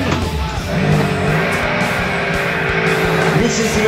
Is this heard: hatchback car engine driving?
yes